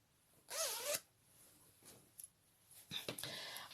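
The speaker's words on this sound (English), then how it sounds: "you can fasten your zip up" A zip on a girl's handmade dress is pulled up in a few short rasping strokes, close and quiet, with soft handling rustles between them.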